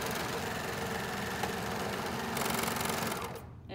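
A serger sewing machine stitches along the folded edge of a coverall sleeve seam, a loud, steady mechanical whir that runs continuously before cutting off just before the end, with no talking.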